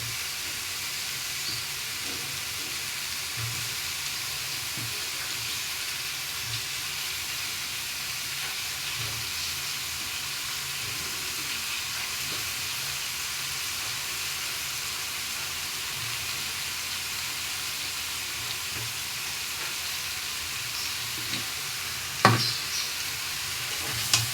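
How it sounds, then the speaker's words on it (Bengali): Potato pieces sizzle and hiss steadily in a pan of spiced oil while an egg and bottle gourd curry cooks, a constant even fry with a few faint clinks and one sharp knock near the end. "আলুগুলো এক এক করে আমি এর মধ্যে দিয়ে দেবো।"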